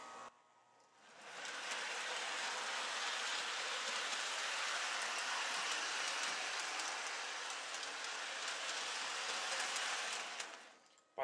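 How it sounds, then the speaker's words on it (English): A model train runs on its track on power from a CW80 transformer, giving a faint, steady whirring hiss that starts after a second and holds evenly before stopping. "now we're going to go ahead and make the train run by increasing the power to the track."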